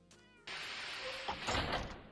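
Meowing of the SCP-529 half-cat in a Minecraft SCP facility: a short burst of noise gives way to a brief cat meow over a loud, hissing game ambience.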